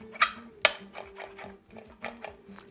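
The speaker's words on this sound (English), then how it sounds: "So we're gonna chop these up." A knife chops ingredients for meatball soup on a cutting board, a few sharp knocks and lighter irregular taps over a low background hum.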